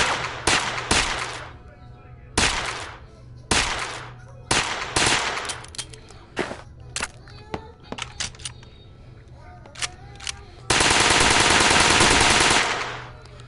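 Guns firing in the VR shooter Gun Club VR, WW2-era weapons: loud, sharp close-range shots ring out one at a time at irregular intervals, followed by a sustained rapid automatic burst near the end.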